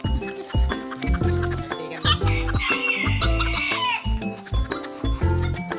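Bantam chickens clucking and crowing at close range in a backyard coop, a busy overlapping mix of calls with other farm noises around them.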